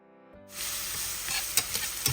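Chopped carrot and vegetables hit a hot pan and begin sizzling loudly, with a steady frying hiss and a few scrapes of stirring.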